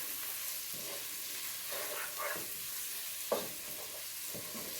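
Garlic frying in butter crackles faintly in a pan while a utensil stirs it in a few soft, scattered strokes, one slightly sharper knock midway.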